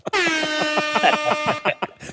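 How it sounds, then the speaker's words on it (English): A loud air horn blares for about a second and a half, a single sustained honk with harmonic overtones, close and alone. "Air horn for child"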